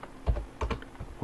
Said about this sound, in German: gebe das Admin-Passwort ein.